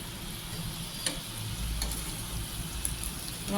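Dahi vada lentil fritters fry in a wok of hot oil with a steady, soft sizzle and faint crackles, heard alone without any talk.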